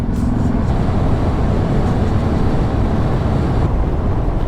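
A Harley-Davidson motorcycle rides along wet hill roads, its engine a steady low rumble mixed with wind and road noise that stays loud and unbroken throughout.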